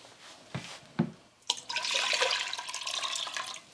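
Water splashes steadily into a container as it is poured for a vinegar pickling brine. A few light knocks come first, then a continuous close pour runs to the end.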